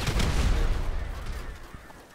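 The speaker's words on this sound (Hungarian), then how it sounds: "Háromra robbantok!" A blast opening a mine door in GTA 5 Online hits loud and rumbling at the start, then its deep boom and debris rattle decay gradually into quieter ambience.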